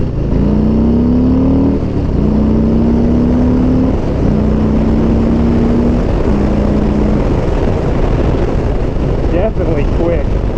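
A Harley-Davidson M8 Street Bob motorcycle accelerates from 0 to 60, its loud engine note climbing through several gear shifts amid heavy wind rush before settling into a steady drone.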